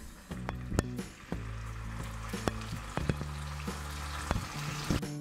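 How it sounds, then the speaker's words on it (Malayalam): Chicken 65 pieces deep frying in hot oil, a steady close sizzle with occasional sharp clicks and spoon taps against the pan, no voices. "ഇനി ബാക്കിയുള്ള പീസസും ഇതുപോലെ ഫ്രൈ ചെയ്തെടുക്കാം."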